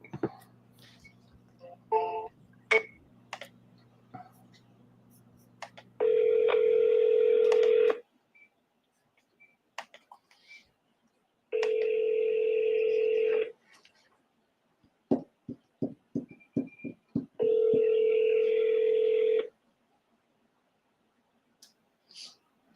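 A telephone call is placed: rapid DTMF keypad tones beep in a short irregular burst, then three long steady electronic ringback tones sound with pauses between them, loud and close, with brief clicks and faint background noise.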